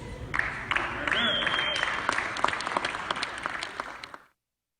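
A small group of about four people clap by hand, sparse, distinct claps mixed with a brief voice and a faint tone, before the sound cuts to silence.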